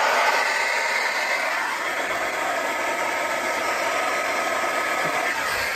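A steady, loud, broadband whoosh of a hair dryer running continuously at high power from a portable power station, with no pauses or talk.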